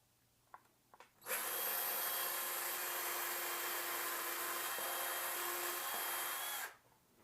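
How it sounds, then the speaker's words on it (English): A power drill or driver whirs steadily for about five seconds, driving screws through a mounting bracket for a Cinnado B6 solar security camera. A few light taps come just before, and there is no talk. "Install the bracket with the screws."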